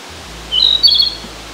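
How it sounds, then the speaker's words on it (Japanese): A Narcissus flycatcher (kibitaki) calls in a woodland in northern Harima, Hyogo, giving a short burst of bright, high chirps at moderate distance over a steady low hum. "このキビタキね"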